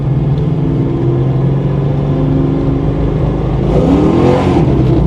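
A Ford Mustang Foxbody drives along with a loud, close engine drone that swells into a rising rev near the end, the exhaust rumbling steadily throughout.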